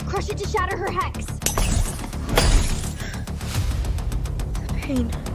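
In a fantasy drama, a hex is crushed and shattered, bursting into a loud, crackling smash amid dramatic music and layered effects, with voices speaking around it.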